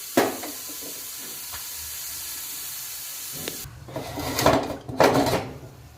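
A pressure cooker of carrot halwa is opened, first with a sharp metallic click and a steady hiss, then with louder bursts of steam and lid clatter near the end.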